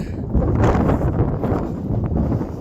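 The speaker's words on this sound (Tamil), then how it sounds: "பட் ஆனால் இங்கே காற்று வந்து ரொம்ப அதிகமாக இருக்குது" Strong wind buffets the microphone on a mountain trek at Meesapulimala, a loud continuous low roar with gusty surges and no talk.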